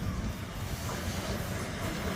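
A PATH train bound for Newark pulls into a station at Harrison, a steady, rumbling wash of wheels and hiss close by with no pauses or voices.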